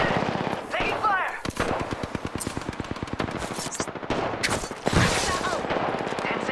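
Rapid automatic gunfire in an Apex Legends match, dense bursts of machine-gun shots with a few sharp louder blasts, close and loud, with brief voice sounds mixed in.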